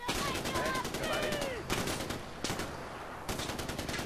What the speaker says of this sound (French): C'est quoi comme fusil à pompe ça?